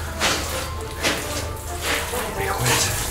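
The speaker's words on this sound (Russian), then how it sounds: "Поэтому приходится принимать душ, типа воду выделяют на 2 минуты." A hotel shower in Jordan running while clothes are washed underfoot with shampoo and soap: a loud, steady hiss of spraying water with soft surges and splashes throughout.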